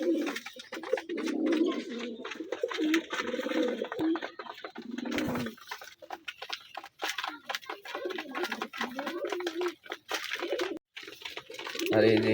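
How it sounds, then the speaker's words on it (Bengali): Domestic pigeons coo repeatedly in low, rolling calls at close range, agitated at the sight of other pigeons outside, with a person talking over much of it. "বাইরে কবুতর দেখছে আর ও তো ডাকাডাকি শুরু"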